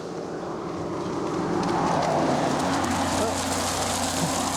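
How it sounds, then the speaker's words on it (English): A blue Jeep driving along a road, a continuous broadband rumble of tires and engine heard while walking along the roadside, swelling slightly as it approaches and passes, with a voice faintly present. "it's that same blue Jeep that we saw in the previous video"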